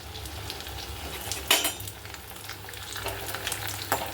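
Papads fry in hot oil for a vegetarian thali, a close crackling sizzle with a sharp burst of spattering partway through, a few utensil scrapes and clinks, no talking.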